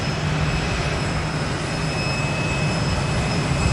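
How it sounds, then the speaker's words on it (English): A Spirit Airlines Airbus A320 arriving at Boise airport from Las Vegas roars steadily overhead, a loud sustained jet engine rumble with a faint high whine running through it. "our next arrival is a Spirit A320 coming in from here, from Las Vegas, Nevada."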